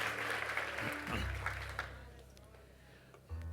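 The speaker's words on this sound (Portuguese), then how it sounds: "aplauda ao Senhor" Church congregation breaks into brief applause that fades out after a couple of seconds, with a low organ or keyboard tone sustained underneath and a quiet room afterward.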